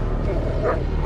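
A guard dog barks a few quick yips in the Thief stealth game, heard amid a dense, noisy game soundscape.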